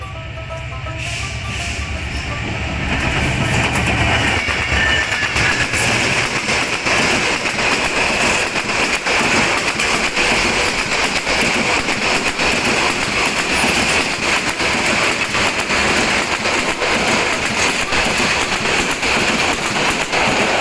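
The Lalmoni Express passes through Sukhan Pukur station in Bangladesh without stopping, a loud, steady broadband rumble and clatter that swells in over the first few seconds and then holds close and continuous to the end.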